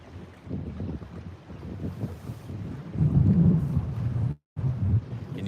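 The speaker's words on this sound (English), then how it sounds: "Can you guys hear that wind blowing very bad?" Strong wind buffets the microphone aboard a river boat while fishing for flathead catfish on the Tennessee River, a loud, gusty roar that swells toward the end with a brief dropout.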